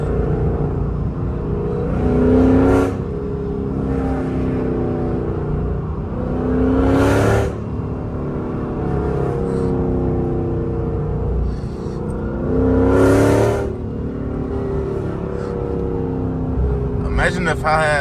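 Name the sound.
Chrysler 300 5.7L engine revving with BBK headers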